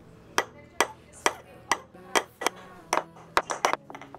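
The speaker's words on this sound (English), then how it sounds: "She's banged in her first ever nail!" A child strikes a nail with a hammer, about a dozen sharp taps in a steady but slightly uneven rhythm, close by and moderately loud, with a faint hum underneath.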